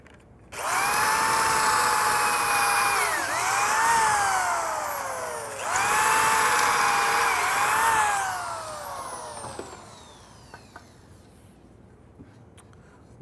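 A power drill bores pocket screw holes into a wooden cabinet stretcher in two long, loud, whining bursts, each dipping briefly in pitch, then spinning down and fading with a few faint clicks.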